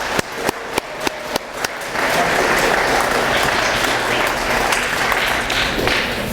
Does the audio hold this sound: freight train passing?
no